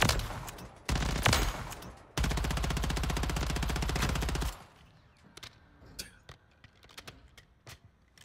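Rival-9 gun in Modern Warfare 3 fires loud, sustained automatic bursts for several seconds, one long rapid stream ending abruptly, followed by quieter scattered clicks and game effects.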